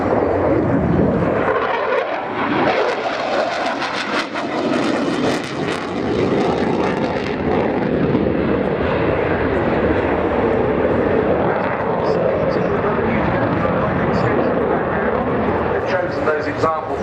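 A Sukhoi Su-22 Fitter jet at the RIAT airshow roars continuously and loudly throughout, a broad sustained engine rumble filling the air while a commentator talks over it.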